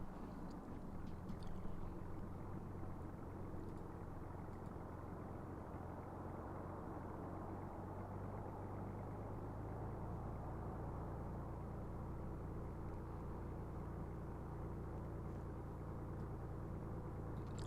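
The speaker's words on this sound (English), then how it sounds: "I can hear that Gamma Jet behind us." A jet aircraft in Tower! Simulator 3 drones steadily at a distance, a low, even roar that holds for many seconds and swells slightly as it passes.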